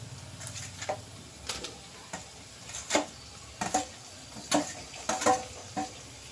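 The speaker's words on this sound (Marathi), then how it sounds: "टमाटर पण हलवून घ्यायचे" A utensil stirs tomatoes and reddened onions in a cooking pan. Quiet, irregular scraping strokes recur every half second or so over a faint background sizzle.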